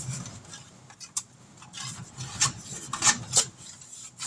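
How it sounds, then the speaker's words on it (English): Shortening is rubbed into the corners and sides of a metal cake pan, a soft scraping and rubbing close up with a few brisk strokes standing out, no voices. "We're going to grease it up all in the corners and around the side."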